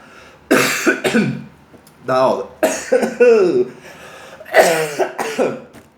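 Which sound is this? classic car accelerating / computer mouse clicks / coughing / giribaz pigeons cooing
coughing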